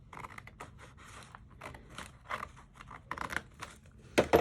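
Scissors snip through paper while pages are cut apart for a junk journal cluster book, a run of short crisp cuts close by at a steady working pace, ending in a louder rustle.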